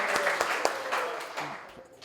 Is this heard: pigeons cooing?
no